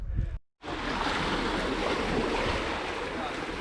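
Continuous broadband wash of surf on a coastal beach at a wild camp, steady and fairly close with wind noise over the microphone, briefly cut out near the start.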